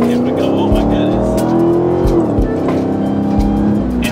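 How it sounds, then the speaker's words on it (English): A Dodge Hellcat's engine and exhaust roar loudly and steadily on a highway, the note rising and shifting as the car accelerates, with a few low thumps underneath. "So on the highway driving this Hellcat, the exhaust is loud."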